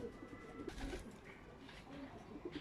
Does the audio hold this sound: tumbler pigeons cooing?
yes